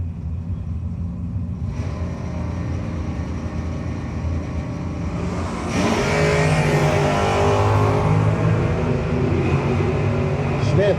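Drag race at Mays Landing, New Jersey, a third-generation car against a Monza: steady engine rumble that surges into a loud, revving launch roar partway through, under an announcer's voice.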